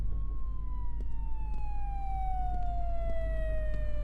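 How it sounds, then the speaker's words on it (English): An ambulance siren in the emergency-services video game Flashing Lights, a steady wailing tone gliding slowly downward over a low engine rumble, moderately distant with faint sharp clicks scattered through. "Here comes the ambulance"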